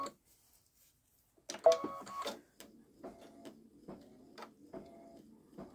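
A Babylock Solaris Vision embroidery machine stitches a design in short separate bursts of clicking, mechanical stitching with quiet gaps between them, heard close and fairly faint.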